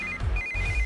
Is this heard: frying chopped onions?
no